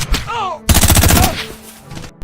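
Gunfire in an action sequence of snipers fighting cartel gunmen: a rapid, loud burst of automatic shots dominating the middle, with a few scattered reports and short vocal sounds around it.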